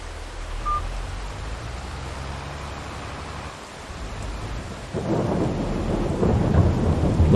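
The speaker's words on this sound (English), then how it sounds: "Love the sound of rain." Steady rain in the video game Farming Simulator 22 hisses throughout, growing heavier and louder halfway through, with a low rumble of thunder underneath.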